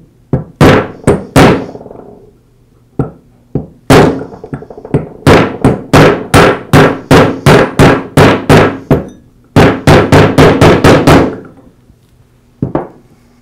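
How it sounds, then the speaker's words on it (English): A mallet strikes a socket to drive a bearing into a Porter Cable 690 series router motor housing: about two dozen sharp, close thunks, some in quick bursts, with short pauses and no talking. "I'll tap it in with a mallet"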